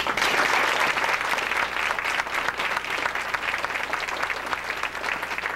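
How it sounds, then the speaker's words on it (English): Sustained audience applause after a round of recognitions for middle school staff, dense and steady clapping throughout with no speech over it. "Let's give these people another round of applause."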